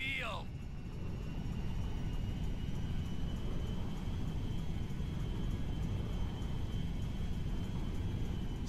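A steady, low engine drone from the Meriwether jet in GTA V as it heads in to land at McKenzie Field. The roar holds constant and even throughout, with no distinct events.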